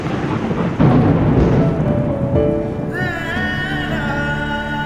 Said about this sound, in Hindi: तो इस बारिश को एंजॉय कर रही हो